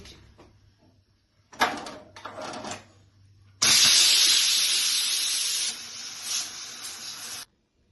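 A pressure cooker with mutton inside releases steam in a loud, sustained hiss lasting several seconds. A few knocks and clunks come just before it, and the hiss eases slightly near the end before stopping abruptly.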